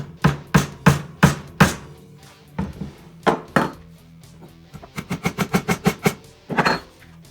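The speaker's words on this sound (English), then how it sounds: "Grab my little hammer and just tap it in." A small hammer taps wooden pieces into a homemade electric guitar, sharp woody knocks first in a slow steady series, then a pause, then a quicker run of lighter taps, close and alone.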